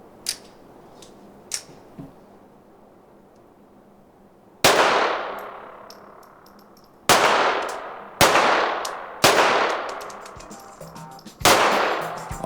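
Gunshots at a shooting range ring out one at a time, sharp and loud with a metallic ring, spaced a second or more apart after a few quieter clicks.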